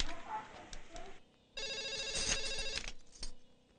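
A telephone rings on a call being placed in a Telugu film scene, with a short electronic ringing burst in the middle and a fainter one near the end, set against a quiet room background.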